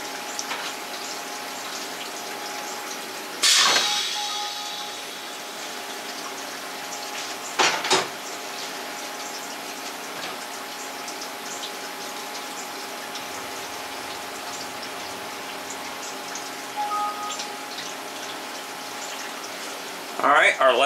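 Coolant splashes and sprays continuously during machining of a part for an injection molding machine heat cartridge, a steady watery hiss with a few louder bursts and machine whine, with talk over it.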